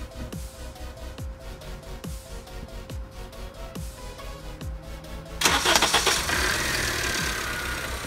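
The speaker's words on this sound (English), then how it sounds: "we're going to start the car, charge the system" An 8th-generation 2006–09 Honda Civic sits with steady ticking clicks before its engine cranks and catches about two-thirds through, settling into a loud, close, even idle.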